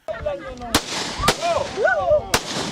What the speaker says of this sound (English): The activity ended with a display of gunfire in the air by members of the association.